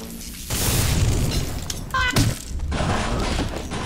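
A grenade goes off in the video game Bioshock, a loud booming blast with a shattering crack near the middle, over steady game noise.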